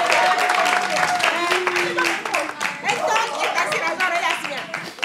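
Players and spectators at an outdoor summer games event break into hearty applause, clapping densely at first, then thinning as voices and cheers mix in over it.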